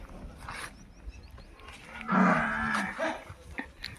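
Murrah buffalo lowing once in a long, deep moo from a moderate distance, with quieter farm ambience before and after.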